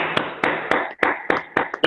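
A brief burst of audience applause for a great leader at a training event, heard as a quick run of seven or eight crisp, fairly loud claps in a steady rhythm, with no voices.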